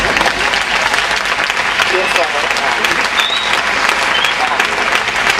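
A festival audience at an amateur stage play applauds the hunchbacked, lame character, dense loud clapping throughout with voices mixed in the crowd.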